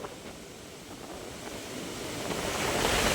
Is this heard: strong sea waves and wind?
yes